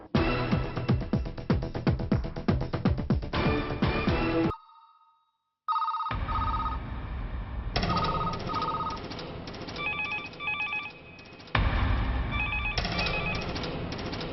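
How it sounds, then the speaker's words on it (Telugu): A telephone rings unanswered at a police station, with repeated electronic ringing bursts sounding loud and close, broken by a brief silence before the ringing resumes. "ఏ పోలీస్ స్టేషన్లోనూ ఫోన్లు ఎత్తడం లేదా?"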